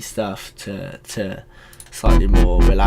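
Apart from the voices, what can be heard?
No everyday noises stand out.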